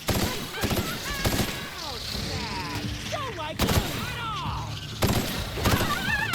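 Gunfire in The Outer Worlds, sharp shots landing in bursts at about 0.6, 3.6 and 5 seconds amid game effects and creature cries, with a voice talking over parts of it.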